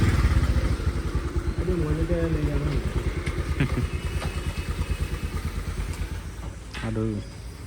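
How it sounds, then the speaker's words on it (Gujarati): A motorcycle engine idles close by with a rapid, even putter while being parked in a shed, settling and fading toward the end, with someone speaking briefly over it. "બાઇક મૂકી દઈએ"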